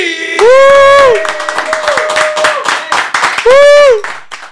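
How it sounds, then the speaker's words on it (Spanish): A packed studio audience applauds to welcome the guest Tainy, loud crisp clapping mixed with long rising whoops and cheers, with voices close by. "Un fuerte aplauso a Tiny."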